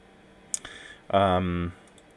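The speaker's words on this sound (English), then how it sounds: "the 2 engines are starting up" DC-9 twin jet engines starting up in a flight simulator, heard as a single loud, rising mechanical tone that holds steady for about half a second before cutting off, with a couple of faint clicks just before it.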